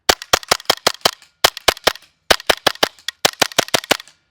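Rapid bursts of loud, sharp pops from a Raptor SR-2M airsoft gas blowback rifle fired up close, in four quick groups of about five to six shots each, separated by brief pauses, with no talking.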